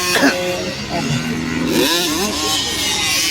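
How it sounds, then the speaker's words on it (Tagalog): Small 50cc race motorcycles rev and accelerate at a heat in Lanao del Sur, their buzzing engines loud and continuous as they pass, with an announcer talking over them. "So lahi ang motor gamit si Taluloy ka Tyler"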